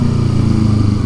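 A loud motorcycle engine churns steadily close by on a road during lane splitting, a dense low rumble with no clear downshift break and no speech.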